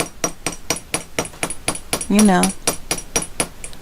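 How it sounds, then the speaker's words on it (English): Hammer tapping wire ends flat on a small metal block, about a dozen sharp, evenly spaced metallic strikes up close, with a brief spoken phrase in the middle. "So I'm going to get my little metal block out and my hammer."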